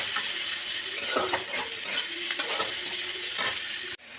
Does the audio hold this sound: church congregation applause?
no